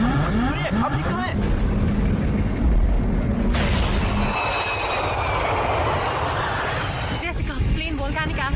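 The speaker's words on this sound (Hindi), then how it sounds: "प्लेन वोल्केनिक ऐश क्लाउड से गुजर रहा है" Airplane engines in flight, with the plane passing through a volcanic ash cloud, make a loud, steady roar that runs throughout, with a shift in tone partway through and a few brief voice-like bursts.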